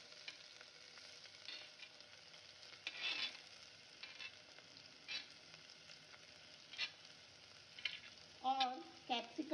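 Ginger, garlic and onion frying in hot oil alongside bay leaf and whole spices for masala rice, a faint steady sizzle broken by occasional louder stirring scrapes, with a brief clatter near the end.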